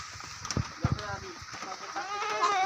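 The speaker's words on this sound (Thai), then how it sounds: "อันนี้แพะตัวผู้เล็ก" A small male goat on a goat farm bleats in short, wavering cries, with earlier thumps and shuffling, close by and clear, as people are heard around the pen.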